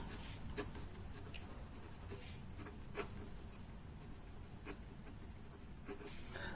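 A pen scratches steadily across paper as an accounting heading is handwritten, producing soft, close, continuous scribbling with small rhythmic strokes and no talking.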